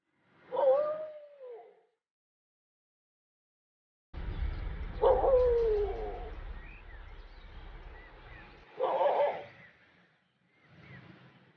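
A mother dog howls and whimpers beside her dead puppy on a roadside. Drawn-out, wavering cries come in several separate bursts with pauses between them, and a low rumble sits under the middle stretch.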